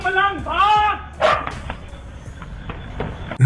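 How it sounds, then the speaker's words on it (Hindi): A mad dog barks and yelps in a few sharp, close bursts, followed by quieter whimpering noises, with a person talking nearby. "एक पागल कुत्ता इनके पास आ जाता है और काटने की कोशिश करता है"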